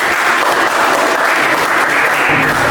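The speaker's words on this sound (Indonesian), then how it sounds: "Oke, tepuk tangan sekali lagi ya" A roomful of people claps loudly and continuously in a short burst of applause during a classroom teaching assessment session.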